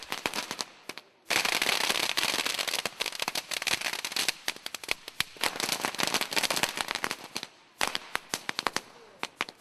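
Firecrackers set off at a temple to the fire god in China, a dense, loud, continuous crackling barrage of rapid pops that breaks off briefly and then resumes.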